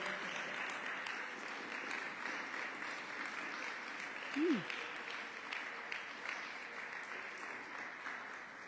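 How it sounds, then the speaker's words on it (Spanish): Church congregation applauding the Lord during a Spanish-language sermon, a steady, fairly faint wash of clapping spread evenly across the room from start to finish, with a brief voice-like sweep midway. "Den un aplauso fuerte al Señor"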